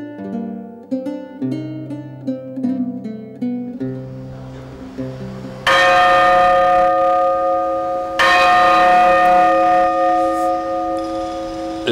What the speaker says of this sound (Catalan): és la campana més antiga de totes les que hi ha a la Corona d'Aragó